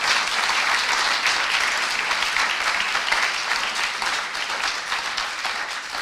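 A large audience at a conference claps continuously, a dense and steady wash of applause that tapers slightly toward the end.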